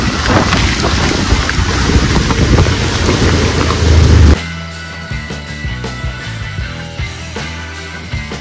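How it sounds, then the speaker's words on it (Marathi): Heavy rain pours down on the way to a turf cricket ground, a loud dense hiss with wind buffeting the microphone for the first half before it drops to a quieter patter. "पावसातून भरपूर पाऊस पडतोय"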